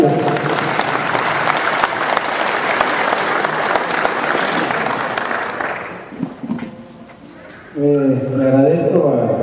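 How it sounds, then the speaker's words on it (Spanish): Applause at a community dining project general assembly, sustained crowd clapping for about six seconds that fades out, followed by someone speaking. "les pido un aplauso para estas gentes que están preocupadas por nosotros"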